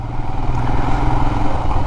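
A Royal Enfield Himalayan motorcycle runs after sitting unused for a month and a half, giving a loud, close, steady idling thump with a fast even pulse and no talk over it.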